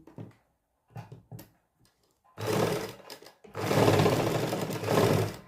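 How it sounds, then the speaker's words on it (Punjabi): A sewing machine stitches fabric for a woman's suit, starting with a few brief taps and short bursts, then running in two sustained loud whirring stretches close by. "ਫਿਰ ਆਪਾਂ ਸਲਾਈ ਲਾਉਣੀ ਸਟਾਰਟ ਕਰਾਂਗੇ"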